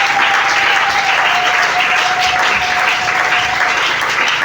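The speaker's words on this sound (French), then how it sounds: "On peut acclamer le Seigneur." Church congregation applauding steadily in praise of the Lord, a dense unbroken clapping that fills the room, with a sustained tone ringing faintly above it.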